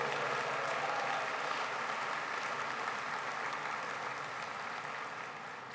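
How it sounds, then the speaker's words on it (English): An audience at a VFW convention opening applauds its sponsors with a sustained, dense round of clapping. The clapping holds steady before gradually thinning and fading toward the end. "Please give our sponsors a big round of applause for making our convention possible"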